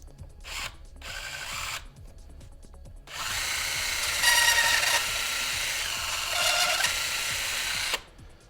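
A power drill whirs in short bursts, then runs steadily for several seconds before cutting off, close and fairly loud with no talking.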